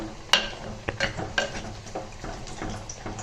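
Cooked ponnanganni greens are mashed with a ladle in a pot, with a series of soft, irregular knocks and scrapes of metal against metal, fairly close and quiet, over a light background hiss.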